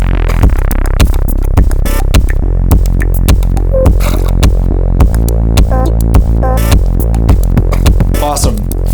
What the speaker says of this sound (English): I'm gonna go ahead and filter that down.